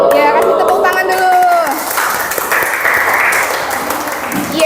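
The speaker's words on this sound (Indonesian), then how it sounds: "Ya, kasih tepuk tangan dulu." A school class claps for a classmate's correct answer during a lesson, a dense burst of applause rising after a teacher briefly speaks and continuing close and loud to the end.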